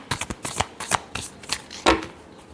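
Tarot cards are shuffled in a quick series of close, crisp riffling bursts, with short pauses between them and no voices.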